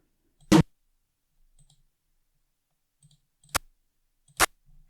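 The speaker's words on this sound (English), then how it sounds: "Let me just click something." Three sharp, isolated clicks spaced a second or two apart, like a computer mouse button being pressed, with near silence between them.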